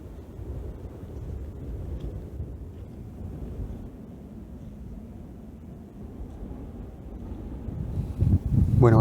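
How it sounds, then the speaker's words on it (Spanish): Strong wind on a snowy mountain trekking trail, a steady low rumbling buffet against the microphone that surges louder in gusts toward the end. "Bueno, bastante viento."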